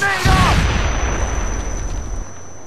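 A grenade goes off in SOCOM 4 U.S. Navy SEALs, a near, loud blast with a deep rumble that fades slowly over about two seconds.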